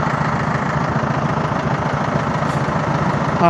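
A Raider 150 motorcycle with a carburetor engine labors up a steep road, its engine droning loud and steady with a rough, throbbing pulse and no voices.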